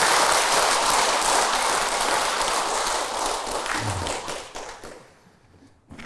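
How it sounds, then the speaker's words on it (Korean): A large audience at a Buddhist dharma talk breaks into loud, sustained clapping that holds steady for several seconds, then thins out and fades near the end. "우리 부처님 빨리 일어설 수 있도록 큰 박수 한번"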